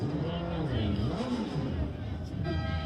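Motorcycles from a motorcycle club burning rubber during a Christmas parade, a sustained engine roar with rising and falling revs, under crowd noise and talk.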